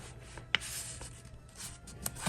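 A sheet of Xerox paper being folded in half for a simple paper basket craft: close, soft papery rustling and rubbing, punctuated by a couple of sharp, crisp crease snaps, with no voices.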